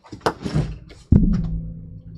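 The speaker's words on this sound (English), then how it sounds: "And I bang the microphone around." A microphone is banged around, giving a few scraping handling noises and then a heavy, close thump that booms briefly before fading.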